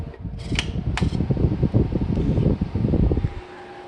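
Motor of a temperature-controlled fan spinning, a close, steady whirring hum with a couple of brief clicks near the start, running for several seconds before easing off.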